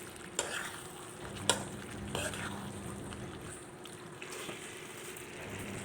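Chukkakura and gongura leaves being stirred and fried in a pan for a gongura chicken curry, a steady close sizzle with a few sharp scraping clicks of the spoon against the pan.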